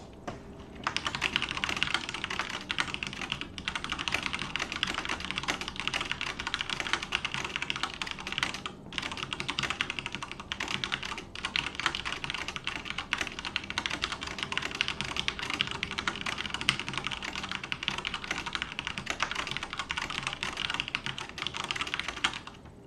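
Steady, fast typing on a computer keyboard, a dense continuous patter of key clicks held close and fairly loud, with only a few brief pauses and no voices.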